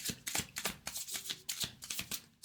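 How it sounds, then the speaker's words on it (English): Tarot cards are shuffled close up and quietly, giving a quick run of crisp riffling flicks in a steady rhythm with no talk. "One more shuffle."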